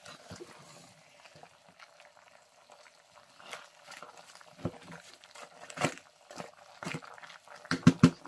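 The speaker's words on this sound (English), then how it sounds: "It's boiling nicely." Soft bubbling of meat simmering in a pot for egusi soup, with occasional clinks and knocks, fairly quiet and close.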